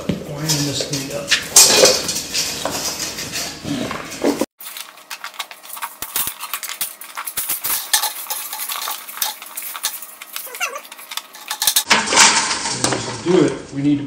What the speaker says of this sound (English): So let's see if we can have any luck winding this thing up.